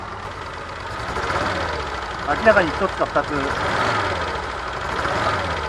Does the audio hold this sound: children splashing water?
no